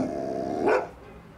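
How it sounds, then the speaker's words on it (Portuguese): A single dog bark, close and fairly loud, rising over a steady low background hum and then fading into quiet. "Por que tá latindo?"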